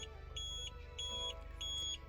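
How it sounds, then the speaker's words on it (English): A small aftermarket tire pressure monitor in a car beeps in three short repeated chirps with gaps between them, quiet over a low steady engine hum. "every time there's a change in tire pressure, this device actually beeps"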